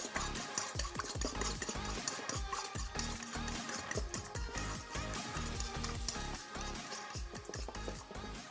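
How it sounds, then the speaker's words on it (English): Three eggs beaten in a bowl for a noodle kugel, a steady, rapid whisking clatter that runs close and loud without a break for several seconds, with no voices. "Break 3 eggs into a bowl and beat them up."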